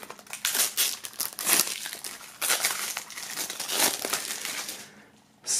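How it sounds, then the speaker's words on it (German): Plastic shrink wrap being cut and peeled off an album box, with loud crinkling and crackling bursts close by in irregular rushes, easing off before a final crumple, without speech. "Werden wir mal öffnen, also die Folie aufschneiden."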